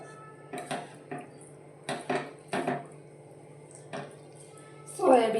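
A spoon clinks and scrapes against a pan while stirring soybean gravy masala, several separate metallic taps at irregular intervals, close and fairly quiet, ending in a brief louder scrape.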